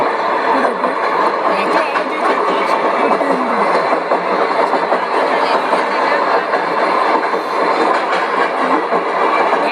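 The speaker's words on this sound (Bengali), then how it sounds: "অনেক দূর থেকে ট্রেনটা আসছে" A train rumbles steadily along the rails, a dense continuous roar with faint clacking, growing near and loud throughout as it approaches.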